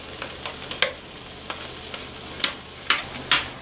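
Tortillas frying in a pan, a soft steady sizzle with scattered sharp crackles and pops, fairly quiet and close, with no talking.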